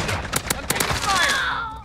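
Gunfire in Call of Duty: Warzone, a close, sharp burst of several quick shots followed by a whining, falling tone, with a voice partly over the shots.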